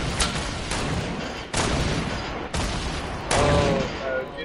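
Fortnite gunfire rings out in sharp bursts, several loud shots and volleys spaced about a second apart, under casual talk from players.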